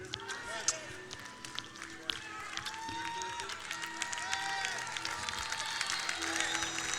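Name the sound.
congregation applauding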